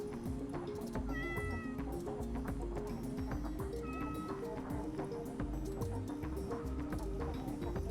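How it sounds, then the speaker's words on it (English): A cat meows a few times in a video game roleplay scene, with short drawn-out cries that are partly masked by steady background music and clattering ambient noise. "There's definitely a cat somewhere."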